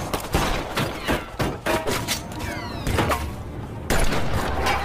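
A dense gangster-film shootout with a police confrontation: rapid overlapping gunshots and bursts of fire crackle continuously, loud and close, with booms and a crashing car mixed into the chaotic action.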